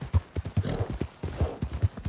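Horse hooves clip-clop in a rapid galloping rhythm in Red Dead Redemption 2 during roleplay, steady and fairly close, with a brief whinny-like hint and no talk over it.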